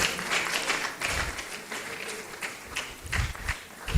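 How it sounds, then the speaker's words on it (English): Applause from an audience at a World Environment Day event at Igbinedion University, Okada, a steady wash of clapping with irregular low thumps and some bursts, continuing without pause for about four seconds. "Please let us give him a round of applause"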